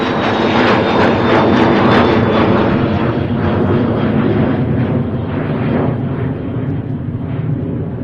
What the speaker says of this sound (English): there's another one taking off